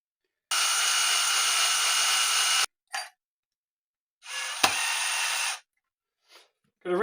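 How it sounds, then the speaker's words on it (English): A power driver runs screws into guitar hardware during a reinstall, in two loud, steady whirring bursts of about two and one seconds, separated by short clicks and quiet gaps; a voice briefly talks at the end. "Just going to put these screws in now."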